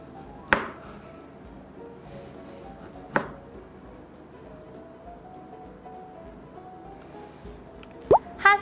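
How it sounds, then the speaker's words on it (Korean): Genoa salami being sliced into thin round pieces, a few sharp, separate knife taps on a cutting board spaced seconds apart, close, over a quiet background with no speech. "제노아 살라미 컷은 동글고 얇은 모양으로 잘라주세요."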